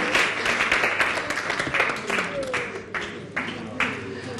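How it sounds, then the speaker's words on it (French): Audience applause at a stage show greets a lookalike performer, a dense, steady clatter of clapping that carries on beneath someone talking over it. "Super Sonic, on applaudit"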